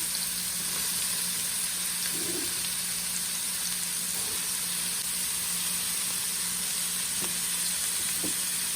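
Ginger garlic paste and carrots frying in a little oil for spring roll filling, a constant close sizzle and hiss with a few soft stirring knocks, no voices.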